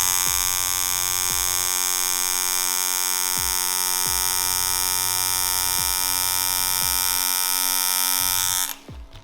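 Tattoo machine buzzing steadily during line work, a constant high electric whine with rhythmic low thumps every second or so, stopping abruptly near the end.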